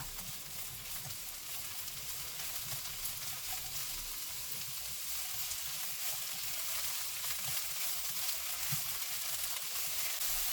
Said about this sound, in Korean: 이제 팬에 기름을 두르고 약불에 도라지를 볶아주기 시작합니다